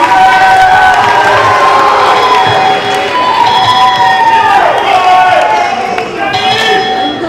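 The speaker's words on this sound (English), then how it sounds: "Give them a round of applause," A gym crowd at a school challenge program event cheering and applauding seniors, loud sustained shouting and clapping with children's voices, close and continuous.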